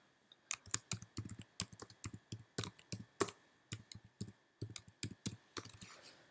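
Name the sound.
typing a file name on a computer keyboard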